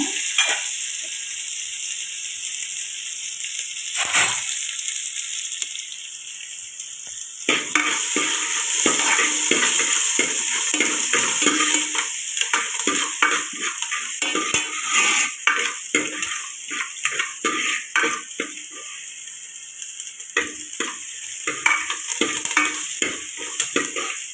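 Onions, curry leaves and green chilies sizzle steadily in an oiled pan for a fish curry, with a constant frying hiss, scraping spoon stirs and occasional clinks of the utensil against the pan, close and with no talking.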